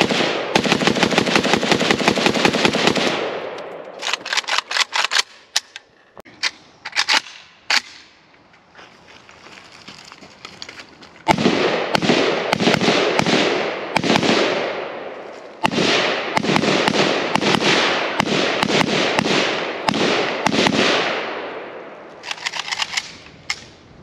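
A Polish PAC Pioneer AKM Sporter rifle fires a magazine at an outdoor range, loud rapid shots in quick strings and bursts, with brief pauses between volleys and no talking.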